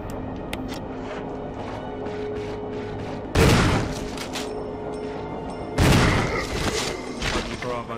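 Two loud, sharp shotgun blasts about two seconds apart ring out in the Resident Evil HD Remaster video game, each with a brief decaying tail over a steady low game ambience.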